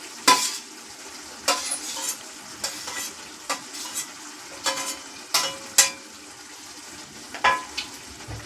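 Chopped tomatoes are stirred into a frying egg curry with flat beans, a spoon scraping the pan in repeated strokes over a constant soft sizzle.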